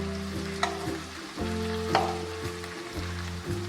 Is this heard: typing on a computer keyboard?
no